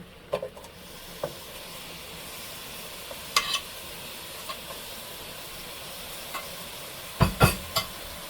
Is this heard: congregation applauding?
no